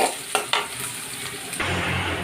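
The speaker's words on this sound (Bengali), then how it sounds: "এখানে আমি পেঁয়াজটা দিয়ে দিলাম।" Onion is dropped into a hot pot set up for cooking meat, with a couple of close metallic knocks followed by a sudden, loud, steady sizzle that continues to the end, with no talking.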